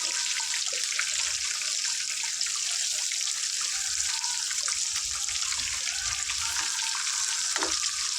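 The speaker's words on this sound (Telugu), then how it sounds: "ఫ్రెండ్స్ ముక్కల్ని చక్కగా తిప్పేసుకుందాం చిన్నగా ఆయిల్ పైన పడుతుంది స్లోగా విధంగా తిప్పేసుకోవాలి" Korameenu fish pieces shallow frying in oil and being turned over, a constant close hiss and crackle of sizzling oil with faint scrapes of a utensil under it, steady and loud throughout.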